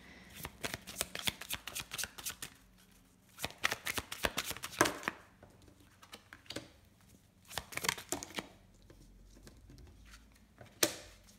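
Tarot cards being shuffled in bursts of rapid riffling and flicking, with short pauses between rounds, close and fairly quiet.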